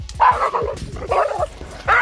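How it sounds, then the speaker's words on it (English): A dog yelps after getting an electric shock, letting out three loud, close, high-pitched yips at a quick uneven pace, with whimpering noise between them. "For example, a dog getting an electric shock."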